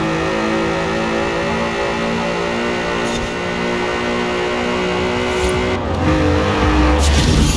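Volkswagen Golf MK4 engine in Forza Horizon 4, a steady, loud, buzzing drone at speed with slight pitch shifts and faint tire noise.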